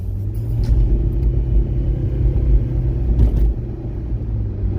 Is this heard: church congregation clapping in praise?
no